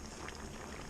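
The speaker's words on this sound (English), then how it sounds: "She's off and she's a-boiling." Vegetable beef soup boiling hard in a kettle, giving a steady, dense bubbling and churning that stays close and continuous with no talking.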